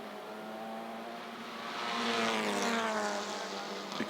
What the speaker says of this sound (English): And clattering across the curbs at the chicane.